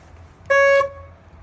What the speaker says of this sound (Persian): سالار چرا بوق میزنی